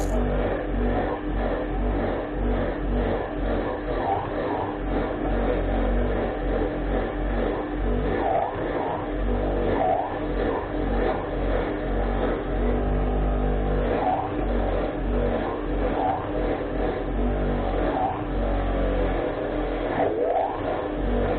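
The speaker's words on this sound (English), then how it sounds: "keep pushing it deeper into the wheel and then withdrawing it so the motor can pick the speed back up again" A motor-driven wire brush wheel scrubs rust from the threads of an old bolt with a steady, close grinding whir, its pitch dipping and recovering as the bolt is pressed in and pulled back.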